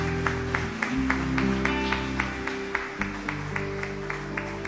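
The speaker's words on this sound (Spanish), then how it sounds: "Dele un fuerte aplauso al Rey de Reyes," A church congregation claps in rhythm over sustained organ or keyboard chords, the evenly spaced claps standing out clearly above the held music during a worship service.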